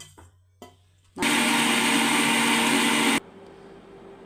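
A mixer grinder grinds coconut, green chilli, ginger and garlic into a masala, starting abruptly with a loud, steady whirring roar for about two seconds before cutting off, with quiet kitchen sounds before and after.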